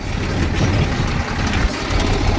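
Tractor engine running on a farm while hauling cow-dung manure, a steady low rumbling drone throughout, close and fairly loud.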